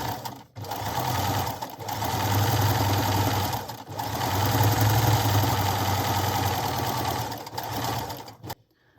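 Close sewing machine running steadily while stitching a zigzag seam through scrap fabric, a loud continuous motor hum with rapid needle clatter, briefly stopping and restarting a few times.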